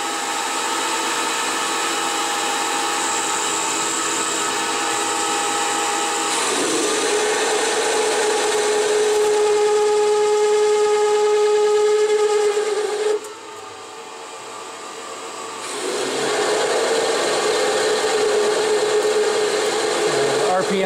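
A CNC lathe runs its cycle at 588 RPM, giving a loud, steady machining drone with sustained tonal whine that cuts off abruptly partway through, then resumes after a short quieter pause.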